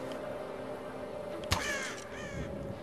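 A crow caws in the video game Tomb Raider, one sharp harsh call followed by a second, trailing caw over a steady low background hum, fairly close and alone.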